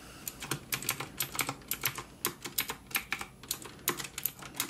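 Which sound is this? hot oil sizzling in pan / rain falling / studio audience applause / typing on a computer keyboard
typing on a computer keyboard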